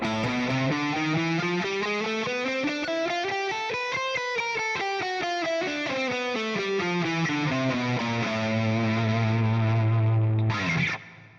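Distorted electric guitar plays a run of closely stepped notes climbing and descending, ending on a held low tone and a quick scrape.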